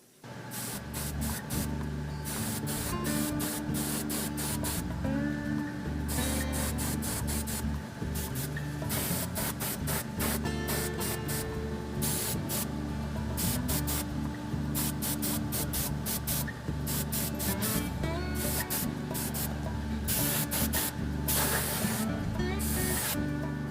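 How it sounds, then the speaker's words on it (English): An airbrush sprays paint while weathering a model diesel locomotive, fed by an air compressor set around 10 to 15 PSI, giving a loud, continuous hiss that runs steadily without a break. "Then we'll turn on the air compressor."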